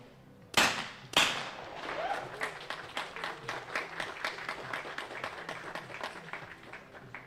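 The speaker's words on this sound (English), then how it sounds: "Lots of applause from the Ukrainian team." Two sharp shotgun blasts ring out at a skeet shooting final, followed by a small group of Ukrainian team supporters clapping steadily at moderate distance, the claps rhythmic and fairly light.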